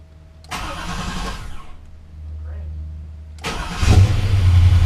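A 383 engine in an Impala cranks in two bursts with a lull between, then catches and begins to run loudly and roughly nearby, and a voice speaks over it.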